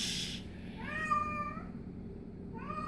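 A vocal kitten meows indoors, two short rising cries close by, following a brief rustle, with no talking.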